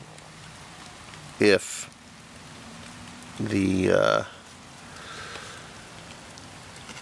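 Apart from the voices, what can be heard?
rain falling during overnight camping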